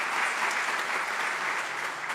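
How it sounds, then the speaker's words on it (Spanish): Steady crowd applause for two rescuers who saved a young girl, honored at a public event; dense, continuous clapping at even loudness throughout. "Un aplauso a ellos,"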